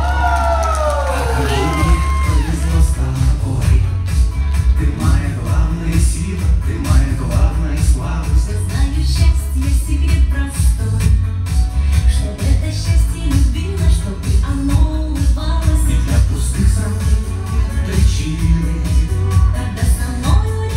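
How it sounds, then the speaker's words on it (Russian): An audience at a live performance in Saint Petersburg breaks into sustained applause with cheering and whoops, a dense, loud wall of clapping and crowd noise with voices shouting through it. "Аплодисменты, прошу!"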